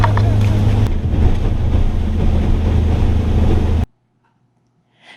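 A sailboat pounds through rough, bumpy sea on the way back to Sailboat Cove, with loud broadband wind and water rush and low hull thumping. The noise cuts off abruptly near the end, leaving near silence.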